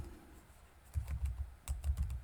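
Typing on a computer keyboard while writing JavaScript code for a to-do app, heard as two short bursts of close, soft clacking keystrokes separated by a brief pause.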